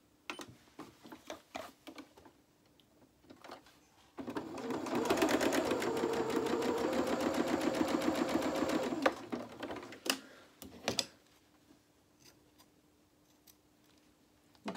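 Sewing machine zigzag stitching along the edge of cotton fabric to stop fraying, a steady rapid whirring run of about five seconds, up close, with light handling clicks before and after.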